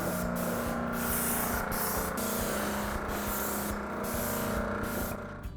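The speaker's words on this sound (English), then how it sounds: "we're going to spray the shelf with white lacquer" A spray gun mists white lacquer onto a floating bathroom shelf in a continuous hiss, interrupted by several brief pauses in the spraying, close up and with no talking.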